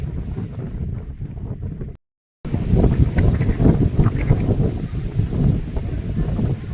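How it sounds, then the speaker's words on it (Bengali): Strong wind with heavy rain on a hilltop in Koraput, Odisha, loud, steady blustery roar buffeting the microphone, broken by a short silent gap, with no voices. "দেখুন এই প্রচণ্ড জোরো হাওয়া আর বেশ ভালো বৃষ্টি পড়ছে"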